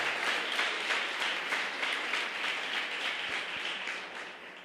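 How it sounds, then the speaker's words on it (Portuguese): A church congregation applauds together, a dense sustained wash of clapping that fades slightly toward the end, with a faint voice beneath. "Você pode aplaudir ao Senhor"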